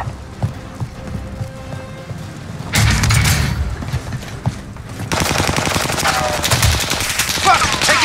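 Automatic gunfire in Call of Duty: Vanguard Warzone on Rebirth Island, loud rapid bursts and fusillades that swell around the middle and keep hammering through the final seconds over a busy game soundscape.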